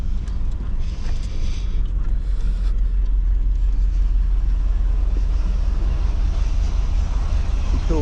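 Low, steady rumble of a boat motor idling in reverse, continuous and fairly close, with some wind noise on the microphone and no talking.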